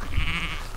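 A single sheep bleats close by while being moved onto fresh grass in a field, one short, loud bleat.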